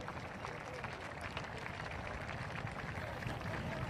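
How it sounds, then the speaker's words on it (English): Sustained crowd applause at the Guards Polo Club during the Cartier Queens Cup final, steady broad clapping from a distant outdoor audience. "give a big hand of applause for 30 years of Cartier sponsorship here at the Guards Polo Club"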